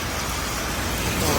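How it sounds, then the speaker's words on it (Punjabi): Steady, dense hiss of rain falling on a small town in Himachal Pradesh, constant and fairly loud throughout with no pauses. "ਬਾਰਿਸ਼ ਹੋਣ ਪੈ ਰਹੀ ਹੈ"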